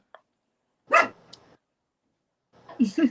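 Dogs barking in short bursts, a couple of sharp nearby barks separated by quiet, followed by a quick cluster of yips.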